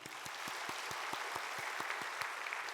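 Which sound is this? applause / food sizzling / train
applause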